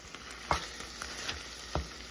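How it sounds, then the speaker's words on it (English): Lean Jersey steer beef frying in a skillet, a faint steady sizzle with a few soft pops and crackles scattered through it. "Let's see how it fries up."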